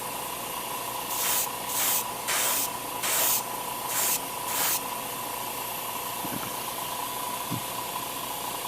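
Airbrush spray of thinned paint onto an HG Uraven Gundam plastic model kit: six short hissing bursts in a row over a steady background hum, close and fairly loud, with no talking.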